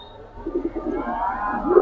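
Silver military pigeons coo softly in a short, low, burbling run of calls up close.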